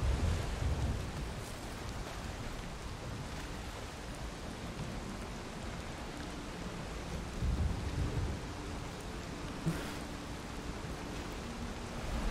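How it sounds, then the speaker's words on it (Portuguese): Steady roaring wash of wind and rain in a storm at sea in the video game Valheim, with low rumbling swells running continuously throughout. "Tempestade em alto mar"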